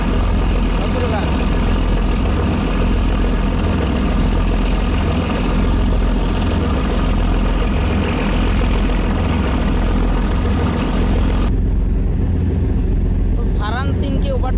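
The Athoi 3 passenger launch pulls away from Sadarghat in Dhaka on engine power, with a loud, continuous, close diesel drone and a steady rhythmic throb, and voices talking over it.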